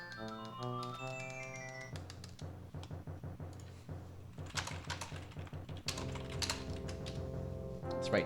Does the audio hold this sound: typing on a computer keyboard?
yes